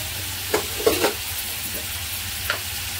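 Masala with Kashmiri chilli powder is stirred in a sizzling pan, a steady frying hiss broken by a few scraping spoon strokes close by, with no talking.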